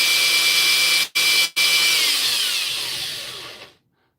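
A power grinder whines loudly at a steady high pitch, cuts out briefly twice, then spins back up before slowly winding down and stopping.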